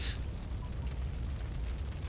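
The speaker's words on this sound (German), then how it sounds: "Wieso steht das in Flammen?" A steady, dense roar of flames consumes an aircraft in the flight simulator game DCS World, rumbling continuously at full strength with no pauses and no voices.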